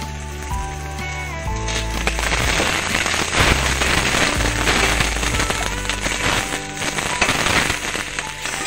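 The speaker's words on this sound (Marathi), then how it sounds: "व आता एक कांदा चिरलेला होता मी अशा प्रकारे तो सुद्धा भाजून घेणार आहे।" Chopped onion roasting in oil in a pan for a home-style mutton curry gives a dense, close sizzle of rapid crackles and pops that continues steadily throughout, with a few brief tones near the start.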